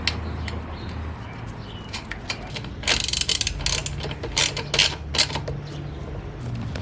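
A ratchet tightens a TORK Motorsport intake onto its mount on a Hyundai Veloster N, producing bursts of rapid clicking with short pauses between, close and crisp over a faint background hum.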